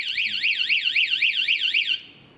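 A Yamaha M-Slaz motorcycle anti-theft alarm whoops in a rapid rising-and-falling siren pattern for about two seconds, then cuts off abruptly.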